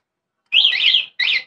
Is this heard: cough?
no